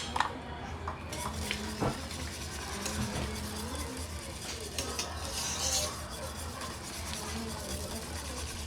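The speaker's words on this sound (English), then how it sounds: "Make sure you whisk and get that cheese mixed and melted into that into that milk sauce." Cheese whisked into a milk sauce in a pot, with soft repeated scraping and clinking of the whisk against the pan over a faint background, a few sharper knocks near the start.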